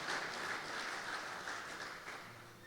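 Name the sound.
applause for two brothers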